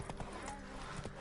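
Hooves of Geralt's horse Roach clip-clop at a gallop in The Witcher 3, a quick, even rhythm of faint, close hoofbeats over a short stretch of open ground.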